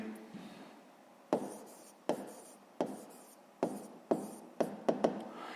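Pen strokes on paper while a sixth-grade geometry exercise is worked out, a series of quiet, close scratching marks coming in short bursts with brief gaps between them.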